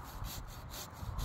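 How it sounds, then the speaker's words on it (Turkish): Hand saw cutting a walnut tree branch during pruning, quick rhythmic back-and-forth strokes close by, loud and continuous with no talking. "Şunu o dalı keselim şimdi."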